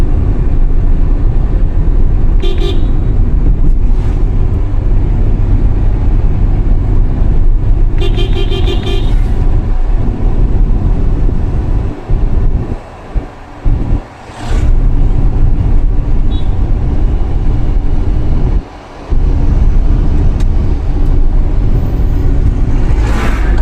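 A car approaches a speed breaker with a steady, loud engine and road rumble heard from inside the cabin. A few brief horn-like toots and faint clicks sit over the drone. No one speaks.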